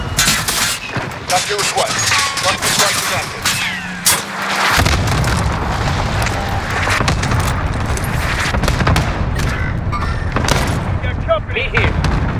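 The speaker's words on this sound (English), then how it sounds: "Bringing down an airstrike." Airstrike explosions and heavy gunfire in Call of Duty's Rebirth Island erupt in dense, booming volleys with rapid shots, loud and continuous, while a voice speaks briefly over the battle.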